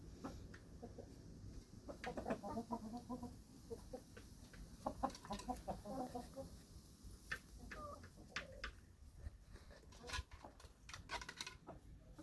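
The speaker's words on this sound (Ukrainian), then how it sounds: "подивіться на цю курку яка в миску залізає ногами" Soft clucking from several chickens, scattered short calls at a moderate distance over a low background murmur, with light tapping and scratching sounds.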